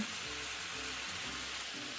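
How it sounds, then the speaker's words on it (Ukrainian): Faint, steady sizzling of vegetables with cabbage frying in a pan over high heat, a soft hiss over a quiet low hum. "Смажимо до тих пір, поки капуста розм'якне."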